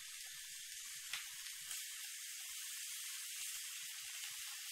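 Small chunks of minced beef sizzle and hiss steadily as they brown in a hot pan. The frying is quiet and even, with a few faint low knocks, and no one speaks.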